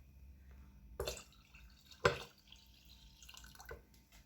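Water is poured into a container of plums to make plum vinegar. A few separate splashes and trickles rise out of a quiet background, with the sharpest splash near the middle.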